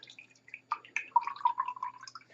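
Toluic acid crystal slurry is poured into a filter, giving soft wet drips, splashes and a trickling gurgle that builds over a couple of seconds, close and moderately quiet with no voices.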